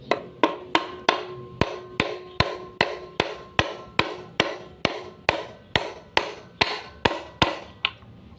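Steady hammering on a vehicle brake part during repair, about two blows per second, each strike sharp and ringing with a short decay, continuing evenly for several seconds with no talk.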